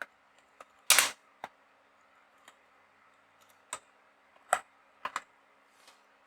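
Python code being typed on a computer keyboard: sparse, crisp key clicks arrive one at a time or in quick pairs, with one louder clatter, separated by near silence.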